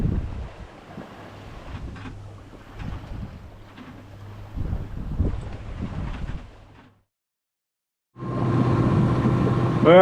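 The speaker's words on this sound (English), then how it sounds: "The wind's picking up a bit now, doing like high 4s, low 5s." Wind gusting and rushing over a sailboat at sea, a steady broadband blowing with flapping and rumble, dropping to near silence briefly before a louder, constant rush returns.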